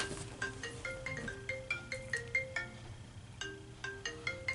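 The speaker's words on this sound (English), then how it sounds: "My phone is ringing, y'all, and it ain't even letting me hang it up." A mobile phone ringtone plays a repeating electronic melody of bright, plucked-sounding notes in short rising and falling phrases, faint and steady, with no talking over it.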